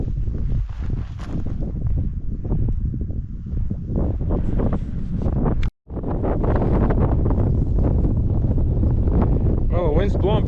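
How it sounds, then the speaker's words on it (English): Strong wind on a mountain trail near Ben Lomond Peak, roaring and buffeting loudly against the microphone with gusty rustling, briefly cutting out near the middle before returning as loud as before. "Well, the wind's blowing pretty good up here,"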